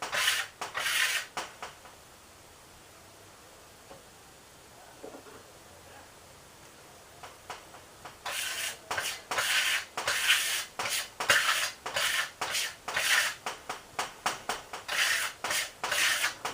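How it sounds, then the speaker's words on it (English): A trowel scraped and wiped clean during plaster or washed-back finish work, rhythmic rasping strokes close by after a quieter stretch, steady and repeated. "Just keep dabbing in, cleaning off that trowel."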